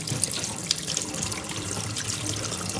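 Incoming cold mains water flowing at about 10 litres per minute through a weir gauge, a steady splashing gush like a running tap, close and continuous with no voices.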